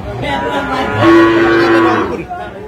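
A single cow at a cattle market gives a loud, close, drawn-out moo lasting over a second, rising into a steady held tone before fading, with faint crowd noise around it.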